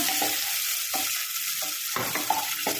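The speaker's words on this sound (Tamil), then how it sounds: "வெங்காயம் இப்போ வதங்கணும்" Onions sauté in a pan with a loud, constant close sizzle, interrupted by rhythmic scraping strokes as a spatula stirs them every half second or so.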